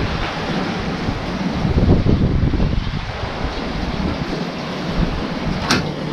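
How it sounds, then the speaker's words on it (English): Water runs steadily from a shower in a shared bathroom on a Lemon Cays island in Panama's San Blas archipelago, a dense, continuous rushing that swells slightly midway and fills the clip alone. "the water is running. This means everything is functioning."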